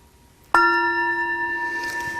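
A mindfulness bell is struck once in a quiet room, giving a sudden clear strike followed by a steady ringing tone that sustains and slowly fades.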